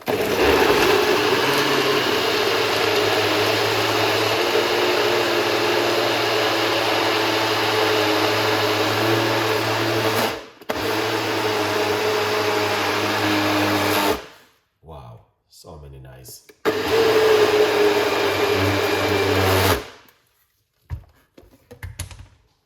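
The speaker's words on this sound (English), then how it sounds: "That is a Ninja blender. It blends it very quick." Ninja blender whirring up pineapple, cucumber, ginger and lemon juice, a loud, steady motor roar lasting about fourteen seconds, then cutting to short bursts and stops, with a brief voice near the end.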